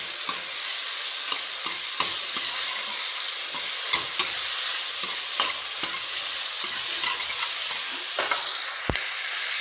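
Chopped onions hit hot mustard oil in a tadka for a Punjabi vegetable dish, a loud continuous sizzle with crisp crackles and spoon clicks, close up and without talk.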